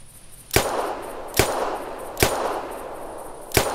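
Four sharp shots from a 10mm semi-automatic pistol in theHunter ring out at roughly one-second intervals, each a crisp crack with a short ringing tail, fired outdoors at an animal about 35 meters away.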